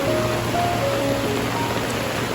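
A constant, heavy roar of a flooded river rushing, a dense wash of sound without breaks.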